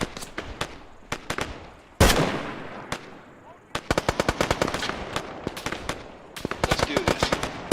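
Bursts of automatic rifle and machine-gun fire in the ArmA 3 military shooter, with rapid rhythmic volleys, a loud blast near the two-second mark, and dense repeated shots continuing throughout at close range.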